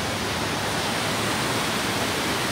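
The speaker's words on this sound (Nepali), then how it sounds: "कस्तो दामी खोला छ भने हेर्नु त" A mountain river near Jiri bazaar, steady loud rushing water heard up close, continuous and alone.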